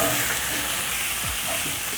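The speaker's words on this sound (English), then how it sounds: "Listen to that sizzle." Beef liver hits a hot pan of cooked onions and sizzles loudly and steadily, with a brief stir scraping through the close frying hiss.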